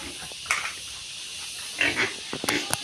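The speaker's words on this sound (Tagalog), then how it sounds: "Ito na po ang mga alaga naming baboy." A few short pig grunts come in scattered bursts over a steady background hiss, moderately close, with no clear talking.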